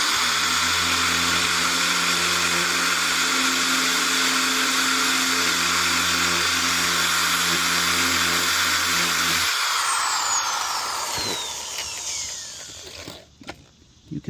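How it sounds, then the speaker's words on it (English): A cheap Harbor Freight hammer drill running in drill-only mode, boring steadily with a loud, even whine for about nine seconds, then cutting off and spinning down. "I'm going to show you how this works on the drill function only"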